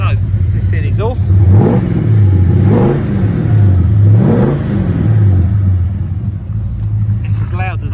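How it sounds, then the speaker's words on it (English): A 1970 Oldsmobile Delta 88's 7.7-litre V8 with custom exhaust gives a deep, rumbling note swelling and fading in repeated revs, loud and close, with low-pitched engine tone throughout. "So, let's hear the exhaust."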